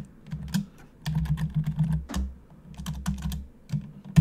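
Quick clusters of keystrokes on a computer keyboard while JavaScript code is entered, close and distinct, with brief pauses between bursts and no talking.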